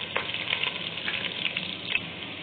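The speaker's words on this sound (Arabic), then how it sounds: "حطيت الزيت يقدح كده،" Oil heating in a pan for Egyptian koshari gives a steady, close frying sizzle with small crackles and pops throughout, with no talking.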